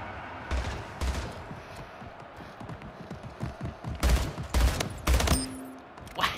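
Gunfire in the video game SplitGate: sharp bursts of shots in clusters, with sparse early pops and then dense rapid volleys near the end, close and loud.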